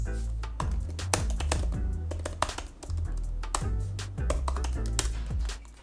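Steady, quick typing on a 2022 MacBook Air M1's built-in Magic Keyboard: dense, crisp key clicks in an unbroken rhythm with brief pauses, close up and with no talking.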